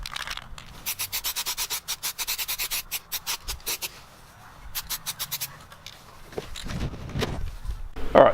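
Hand sanding over a rust repair area on a car body, quick rhythmic back-and-forth scrubbing strokes in close, repeated bursts, with pauses and some handling noise in between.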